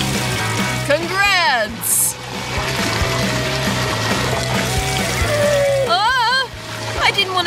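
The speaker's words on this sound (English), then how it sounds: "this button is gonna give you a whole lot of water!" A button trap in a challenge game dumps a flood of water, a loud continuous splash and pour, with excited voices shouting over it.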